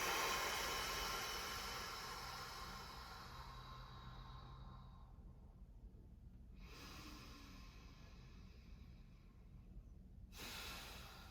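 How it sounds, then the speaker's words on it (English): Deep breath released through the mouth during a beginner yoga session, a long soft airy exhale fading over several seconds, close and quiet, followed by a brief faint intake of breath. "Open the mouth to exhale. Big breath in. Bigger breath out."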